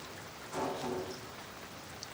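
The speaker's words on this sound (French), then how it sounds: "Et alors, on regardera la pluie tomber de chez nous?" Steady rain falls outdoors while a kitchen is closing for the night, a soft even hiss that swells briefly for a moment and then settles back to a constant, moderately distant patter.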